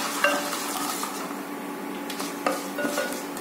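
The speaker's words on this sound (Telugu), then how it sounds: "ఆ తర్వాత ఎండుమిరపకాయలు వేస్తున్నాం." Dried red chillies fry in hot tempering oil with already-browned seasoning seeds for tamarind-leaf dal, a steady close sizzle with occasional light clinks of a utensil against the pan.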